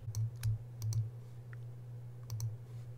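Computer mouse being control-clicked in embroidery software: faint, crisp clicks, mostly in quick pairs, over a low steady electrical hum in a quiet room.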